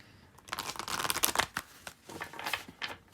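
Tarot cards shuffled by hand in quick riffling bursts, crisp papery flutters close up that come in a few uneven rushes with brief pauses between.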